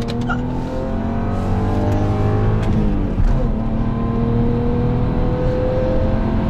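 Cars, including a Skoda Superb 2.0T, BMW M5 E60, Lada Priora and BMW E39 525, accelerating hard side by side in a street race, loud engine roar with rising gear whine, close and sustained.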